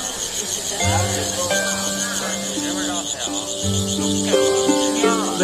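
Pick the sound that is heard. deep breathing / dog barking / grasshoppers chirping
grasshoppers chirping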